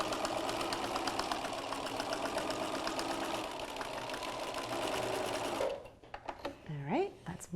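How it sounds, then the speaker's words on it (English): A sewing machine stitches a boxed corner seam on a handbag, running in a fast steady mechanical chatter for several seconds before stopping, after which a few brief handling noises and a short voice sound follow. "I really want to make sure I backstitch at the beginning and end of this seam"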